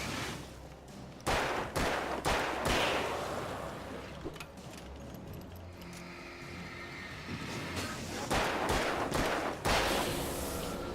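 Repeated gunshots fired at enemies in Alan Wake, loud sharp reports in uneven clusters with tense music and ambience underneath, no one speaking.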